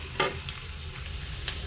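Onions frying in a pan for a chili soybean dish give a steady, soft sizzle close by. Two brief scraping stirs stand out, one near the start and one near the end, with no voices.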